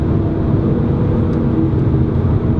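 A 2018 Mercedes-AMG C43 Coupe 4MATIC engine hums continuously in Sport Plus driving, a loud, even low-pitched rumble with no breaks and no voices.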